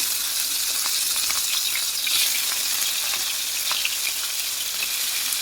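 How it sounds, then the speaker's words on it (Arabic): Meat slices frying in ghee and oil in a hot pan, a dense continuous sizzle with small crackles, close and steady throughout. "انزل بشرايح اللحمه بتاعتي"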